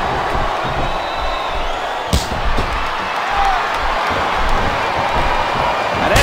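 A steady roar from a capacity arena crowd during a women's wrestling match in WWE SmackDown vs RAW 2007 on PS2, a constant wash of noise with a couple of sharp slams, while commentators talk over it.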